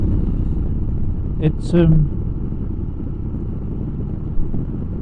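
Wind noise while riding a Royal Enfield Himalayan motorcycle, a steady low rumble and buffeting throughout with engine drone underneath and a brief spoken word partway through.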